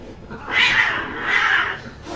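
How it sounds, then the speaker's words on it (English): An alley cat fight sound effect of a cat and a dog fighting, two drawn-out yowling cat wails in succession, loud and close over a low background. "It's like an alley cat fight, what you hear late at night is what's happening out in that hall. It's just a cat and a dog just going at it."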